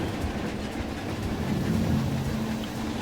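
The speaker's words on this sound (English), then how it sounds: "there goes the train" Inside a park, a passing train produces a steady, heavy rumble with a faint rhythmic clatter. It stays fairly loud and continuous, with no voices over it.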